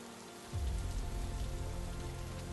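Night rain in the survival game Project Zomboid, a steady hiss that swells abruptly after a moment into a fuller, louder downpour with a deep rumbling undertone, no voices.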